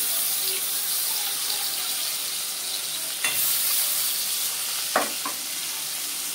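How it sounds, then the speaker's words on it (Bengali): Potato and green plantain pieces sizzling in a frying pan, a steady hiss of frying with a few sharp scraping strokes from stirring near the middle and toward the end. "এখন ভালো করে নেড়ে দেব"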